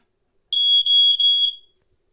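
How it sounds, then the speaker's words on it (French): A shrill, high-pitched electronic alarm beeps in three quick, loud pulses, then cuts off into silence. "Et on voit bien que le détecteur de fumée fonctionne."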